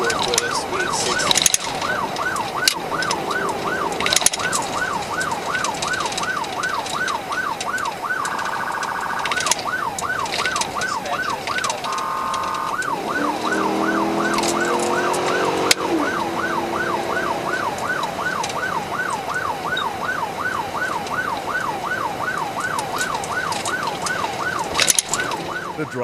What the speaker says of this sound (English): The driver of the Infinity, ignoring Deputy Strickland's lights and sirens, continued a reckless journey